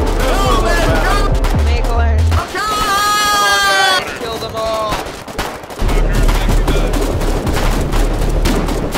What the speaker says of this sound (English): They got their machine guns up here.